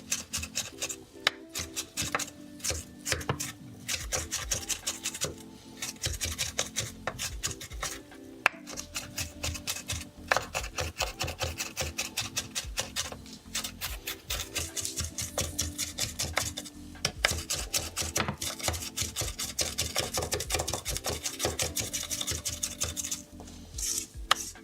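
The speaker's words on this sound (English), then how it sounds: "I'll check once I'm done with chopping the chilies at what state the potatoes are in" Knife chopping chilies on a cutting board during a cooking stream, a rapid steady run of sharp close taps and scrapes that continues without pause, with no voices.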